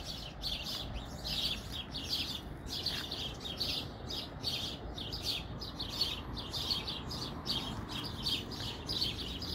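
Dawn birdsong fills an alder tree in Kamloops, British Columbia: a faint, continuous run of rapid high chirps and trills from several birds at some distance, with no voices present.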